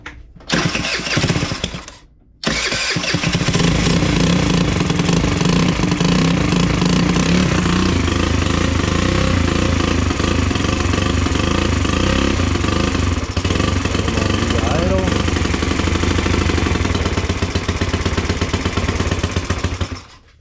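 A custom-built motorcycle engine cranks, catches and settles into a loud, steady low idle that runs continuously and close by, with a brief sputter before it fires.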